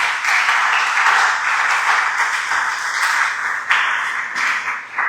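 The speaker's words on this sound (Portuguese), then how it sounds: "pode aplaudir o Senhor," Lively applause from a gathering at a church-style talk event, continuous clapping at close range with a few sharper claps standing out near the end.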